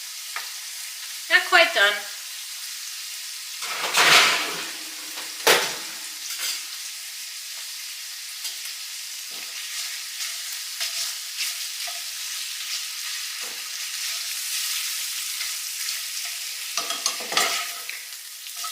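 Sausage and bacon fry in a pan for Zuppa Toscana, a constant sizzle with a few loud scraping stirs near the start and end, and a voice speaks briefly over it.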